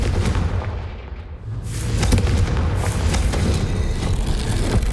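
A Confringo explosion spell bursts in the Hogwarts Legacy video game, a loud booming blast that swells partway through and rumbles on, with no voices.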